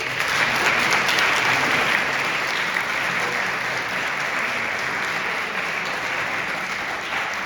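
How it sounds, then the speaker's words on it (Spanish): Parish audience gives a welcoming round of applause for a priest during an Advent talk, a thick, even wash of clapping from a large group that holds steady throughout at moderate distance. "Le damos un aplauso de bienvenida."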